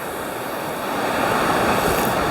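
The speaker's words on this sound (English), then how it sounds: "that's quite nice down there, that rushing water" Rushing stream water running high in the Welsh countryside, a loud, continuous broadband roar with no breaks, swelling slightly partway through.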